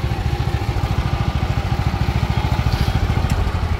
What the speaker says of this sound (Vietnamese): Giật ra ha, động cơ xăng ha.